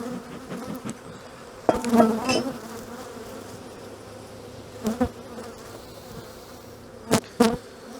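Steady honeybee buzzing at an open hive during a spring inspection hums throughout, with a few louder passes as bees fly close by, swelling briefly and fading back into the drone.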